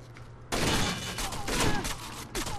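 Rapid bursts of gunfire from Rainbow Six Vegas 2 burst in loudly after a brief quiet lead-in, a dense fusillade of shots that stays steady before one last short volley.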